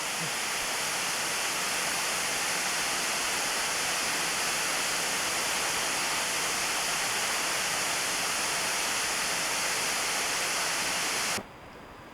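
Steady, loud roar of a waterfall in Alaska, a constant broadband rush of falling water that cuts off abruptly near the end.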